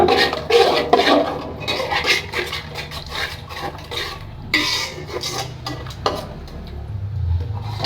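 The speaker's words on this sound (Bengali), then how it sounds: "এবার আমি এগুলি ভালো করে নেড়ে কষিয়ে নেব" Spices for chicken bhuna stirred and fried in a pan, with a spoon scraping and clattering against the metal over a soft sizzle, close and continuous, with no talking.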